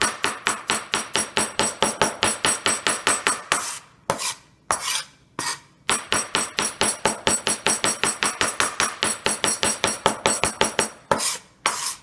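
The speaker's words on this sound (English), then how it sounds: "we got it into reasonable chunks, and then we just chop it finely" A knife rapidly chopping ginger into fine pieces on a cutting board, a steady fast run of sharp close taps broken by two short pauses, loud and alone.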